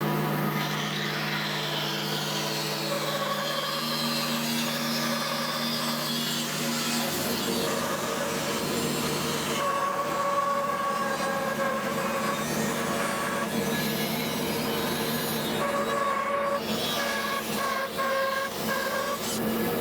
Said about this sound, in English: I'm going to get, an 1/8 inch piece off the back here, and then this will be the peg head veneer.